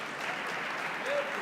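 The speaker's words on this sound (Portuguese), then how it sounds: "Uma salva de palmas, que ator incrível." Brief, steady applause from a church audience for an actor, a dense wash of clapping filling the short moment.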